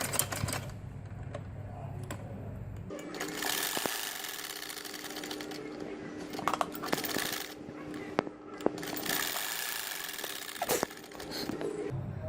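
A sewing machine stitches the shoulder seam of a baby frock, running in steady rapid mechanical bursts with brief stops and clicks, close and fairly loud, with a voice speaking quietly at times.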